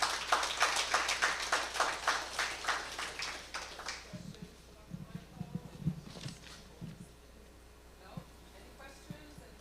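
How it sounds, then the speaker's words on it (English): Audience applause at a health equity summit after the final closing presentation, a burst of many hands clapping that fades after about four seconds into scattered thumps and murmured voices. "a huge round of applause for our final closing presentation"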